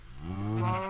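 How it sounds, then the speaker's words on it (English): A cow in the video game Minecraft gives one drawn-out low moo, rising slightly in pitch, close and clear, with faint keyboard clicking underneath. "Get over here, you mooey cow."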